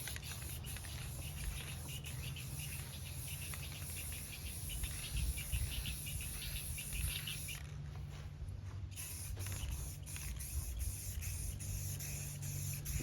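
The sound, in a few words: spray painting a Harley fuel tank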